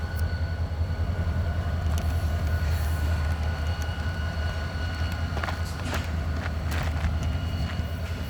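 BNSF freight locomotives roll through the FEC rail yard, giving a steady, loud low rumble with rail noise and faint high squeals and clanks throughout.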